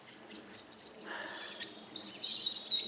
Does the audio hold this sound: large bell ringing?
no